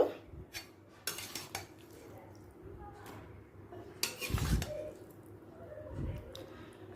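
Sweet pumpkin curry being stirred and scraped out of a pot into another vessel, with clattering spoon-on-metal knocks and clinks in irregular bursts, close and moderately loud.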